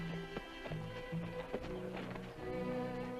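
Horse hooves clip-clop at a walking pace during a funeral procession in an old western drama, with a soft, steady rhythm of light thuds at moderate distance and no speech.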